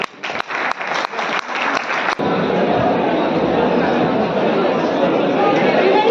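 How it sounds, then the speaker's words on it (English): Scattered individual claps at a college engineering club inauguration quickly swell into full, loud audience applause that holds steady, with some crowd chatter underneath. "Can we have a big round of applause for Anuradha?"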